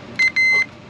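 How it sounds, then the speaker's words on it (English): Two short electronic beeps from a tester during an electrical system power check on an F-4 Phantom fighter jet, a brief tone followed by a longer one, clear and close with no talk. "We should get the beep."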